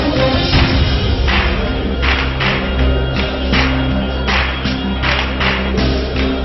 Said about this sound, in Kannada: ಚಪ್ಪಾಳೆ ಚಪ್ಪಾಳೆ ಚಪ್ಪಾಳೆ ಚಪ್ಪಾಳೆ